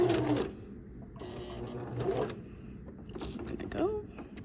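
A sewing machine stitches fabric around a circular line, running in short bursts with pauses as the fabric is turned, close and moderately loud, with someone talking over it.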